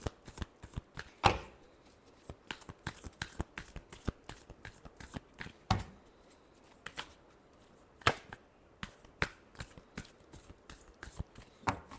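Tarot cards being shuffled by hand, a steady run of crisp riffling flutters and sharp card slaps repeating close up across the clip, with no talking.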